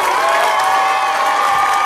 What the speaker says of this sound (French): On les applaudit encore plus fort que ça.